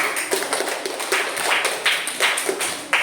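Applause from a group at a coding and artificial intelligence training session: rapid, close-sounding claps that keep up a dense patter throughout, with no voice over them.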